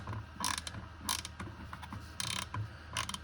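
A quarter-inch hand ratchet clicks in quick bursts of rapid, close, crisp pawl ticks separated by short pauses, with no talking.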